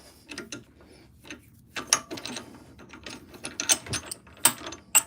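A worm screw mechanism in a woodworking shop is worked by hand, giving close, irregular ratcheting clicks and metallic gear clatter with scraping in between.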